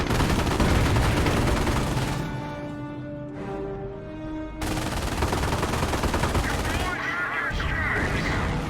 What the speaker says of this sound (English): We're taking heavy fire from that Panther!